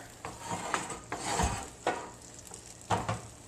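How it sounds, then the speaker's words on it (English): Blueberry pie filling of rice syrup, oil and arrowroot is stirred in a pot, with a spoon scraping and tapping the sides in quick, irregular strokes over a faint sizzle. "And now we're going to stir."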